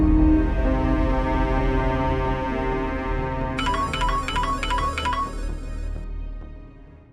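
A phone ringtone chimes in a quick repeating electronic pattern, entering partway through over a steady dramatic music bed and ringing several times before the music carries on alone.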